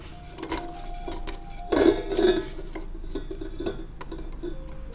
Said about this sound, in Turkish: Doğradığım elmaları tencereye bir kısmını alıyorum.